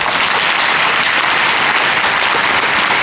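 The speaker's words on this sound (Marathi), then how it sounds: "एकदा टेक क्लॅप द्यायचे आहे" An audience claps steadily to approve a resolution at a save-girl-child gathering at Shivaji School in Yavatmal, with dense, sustained applause throughout and no pauses.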